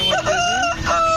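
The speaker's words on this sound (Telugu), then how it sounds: "అలాగే ఫ్రెండ్స్ ఇప్పుడు మనం చూస్తున్న కోళ్ళు" A rooster crows once, loud and close, a full drawn-out call with a brief cluck of other fowl behind it, at a Sunday poultry market in Nellore.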